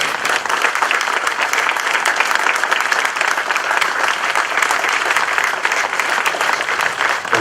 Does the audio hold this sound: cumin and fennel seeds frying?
no